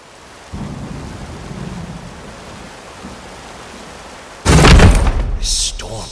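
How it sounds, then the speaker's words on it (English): A thunderstorm with rain rumbles in Layers of Fear Remake: a low rain-and-rumble bed swells, then a loud, close thunder crash bursts in and slowly decays. No speech is audible. "This storm has been going on for weeks."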